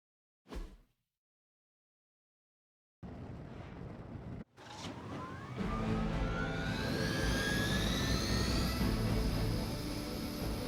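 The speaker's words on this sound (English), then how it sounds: "Disable the Hydra helicopter before it can depart." A Hydra helicopter in the video game Marvel's Midnight Suns, a brief thump and then silence, followed by a loud whooshing engine roar with rising whines that swells and holds steady.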